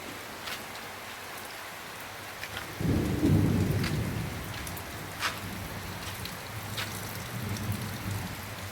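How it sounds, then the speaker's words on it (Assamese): Heavy rain pouring steadily in Guwahati, a constant hiss with a deep rolling thunderclap rumbling in midway and fading slowly. "এতিয়া ইমানেই বেছি বৰষুণ পৰিছে"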